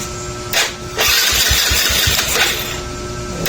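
A Yamaha Mio Sporty scooter with a battery-charging fault is cranked by its starter, then the small engine catches and runs with a loud, close, rough putter settling toward idle.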